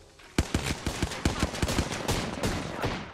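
A burst of rapid gunfire in the battle royale shooter Apex Legends, close and sharp, with a dozen or so quick shots in uneven rhythm that fade into a lingering rumble, no voices.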